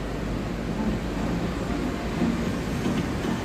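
Steady low rumble of a tram ride in Las Vegas at night, a continuous rolling drone with faint mechanical hum throughout and no clear talk.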